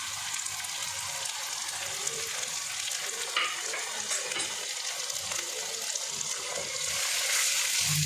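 Whole cumin, chili, turmeric and other spices fry in a pan over medium heat, giving a steady close sizzle with scraping stirs, growing slightly louder near the end.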